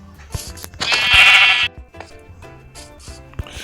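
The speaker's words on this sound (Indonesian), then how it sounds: "Ada domba guys." Sheep bleating in the Minecraft video game: one loud, sustained bleat in the middle of the clip, with a few short game clicks and thuds before and after it and no talking.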